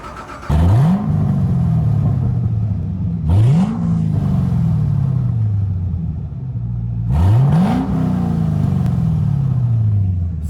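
A Chevrolet Camaro V8 with open exhaust valves and a K&N intake fires up and revs hard three times, each burst rising sharply to a loud, close roar and then easing back to a rumbling idle.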